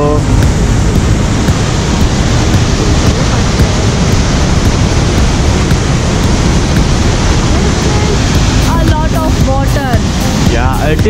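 Athabasca Falls in Jasper National Park thunders as a loud, steady roar of rushing water, a dense broadband wash with no breaks, with faint voices briefly surfacing near the end.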